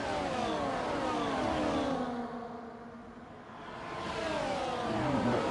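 Formula 1 race cars in a video game at the Miami Grand Prix whine past in sequence, a loud engine sweep that dips away mid-clip and then swells again as more cars approach.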